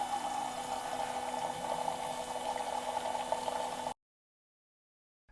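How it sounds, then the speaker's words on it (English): Hot water pours from the outlet of a Meraki espresso machine during descaling. A steady hum and flowing, gurgling noise runs for about four seconds, then stops abruptly and leaves silence. "tap the hot water function in the bottom right corner until water flows out of the outlet"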